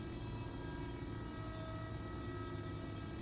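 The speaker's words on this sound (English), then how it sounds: "That's a loud train." A passing train in the video game Farming Simulator 22 gives a loud, steady rumble with a constant hiss of noise that runs unbroken throughout, and no one talks.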